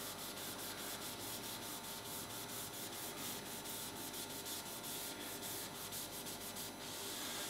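A gentle abrasive pad scrubs back and forth over painted narrowboat paintwork in a continuous, close, even rubbing rasp with faint rhythmic strokes.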